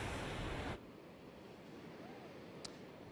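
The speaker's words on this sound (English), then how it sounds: "the waves are certainly high, a little higher than normal maybe" High waves roll onto the Lake Michigan lakeshore, a loud broad roar of surf and wind that drops off suddenly after under a second, leaving a quieter, distant wash.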